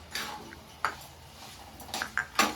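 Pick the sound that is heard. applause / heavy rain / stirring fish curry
stirring fish curry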